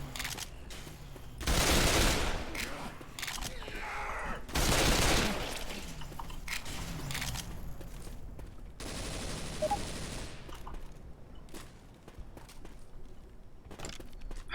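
Pistol gunfire in a video game sounds in rapid bursts, two loud dense volleys and scattered single shots, with clattering and footsteps between and a lingering hum.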